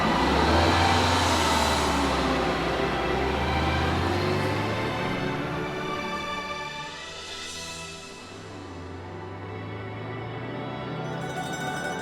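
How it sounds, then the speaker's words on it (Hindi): A car moving forward along an uphill road with a steady engine hum and road rumble, swelling and easing slightly over several seconds, heard from inside. "चलो चलो, गाड़ी को आगे बढ़ाओ।"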